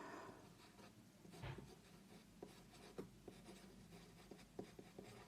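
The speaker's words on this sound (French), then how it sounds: "Donc, je vais essayer d'écrire." Pen writing in a traveler's notebook, a quiet close scratching with soft strokes and small taps, rustling steadily throughout without any talk.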